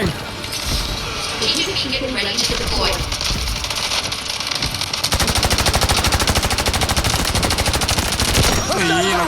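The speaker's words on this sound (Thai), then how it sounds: "สาดกระสุน โดนไปโดนไม่รู้ ยิงไปก่อน" Automatic gunfire from Delta Force Mobile sprays in long, rapid bursts, loud and close, becoming a steady rattling stream in the second half amid busy game noise.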